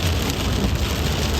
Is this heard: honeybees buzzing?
no